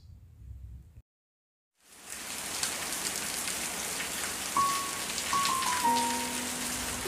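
After a short quiet gap, steady rain falls on a surface, a dense even patter that continues to the end.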